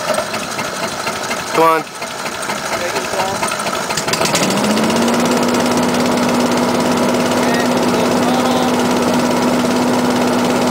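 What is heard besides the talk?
hovercraft engine starting and running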